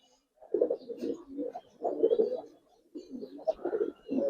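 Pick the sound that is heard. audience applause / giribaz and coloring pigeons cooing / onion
giribaz and coloring pigeons cooing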